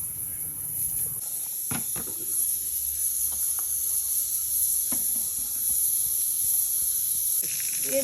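Mustard seeds, two dried red chillies, curry leaves and a green chilli tempering in hot oil for tharavani pulusu, giving a steady hiss and crackle with a few sharp pops, close and moderately loud.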